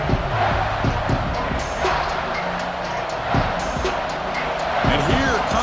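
Stadium crowd roaring steadily in a college football video game during an Auburn versus Mississippi State matchup, a dense wash of cheering with scattered thumps and claps, while a commentator talks over it.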